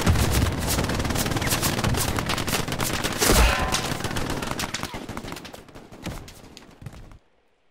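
Gunfire in a first-person shooter game, rapid sustained automatic bursts with a heavy thump midway, loud and dense, then tapering off and cutting to silence.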